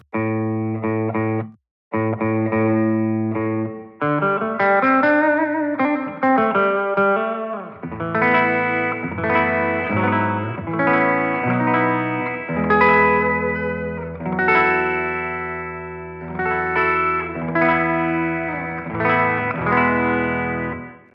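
A guitar through the hall reverb of a Line 6 Catalyst 60W combo amp plays chords and melodic runs, notes blooming and trailing off, loud and continuous with no talking.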